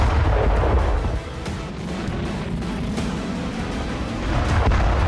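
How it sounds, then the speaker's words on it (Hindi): Russian glide bomb blast rendered as a sustained, loud low rumble with heavy boom-like energy throughout, dipping slightly then swelling again near the end, no voices present. "ये है रूस का ग्लाइडर बम"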